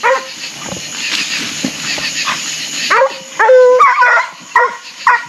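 A dog barks and yips several times in short bursts, fairly close, after a stretch of whining and background noise.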